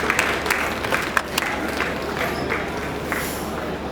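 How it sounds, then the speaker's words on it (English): Scattered applause from a conference audience at a tech talk, moderately loud with a few sharper claps standing out over a diffuse crowd wash, steady for the whole stretch without speech. "Round of applause, please."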